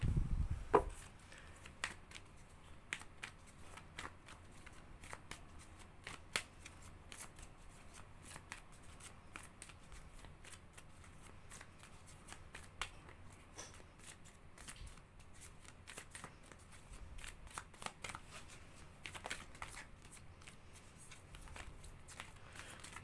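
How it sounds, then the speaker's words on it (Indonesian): Hands shuffling a deck of tarot cards at close range, a long stretch of papery riffles and crisp slaps in an uneven rhythm, steady and fairly quiet with no voices. "Kita shuffle kartunya sampai kita mendapatkan kartu yang energinya sesuai dengan"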